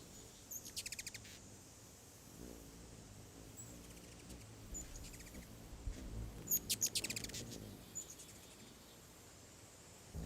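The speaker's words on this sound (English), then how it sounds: "The vocalizations of the ruby-throated hummingbirds are rapid, squeaky chirps" A ruby-throated hummingbird gives rapid, high squeaky chirps in short bursts, faint over a quiet outdoor background with soft insect-like buzzing.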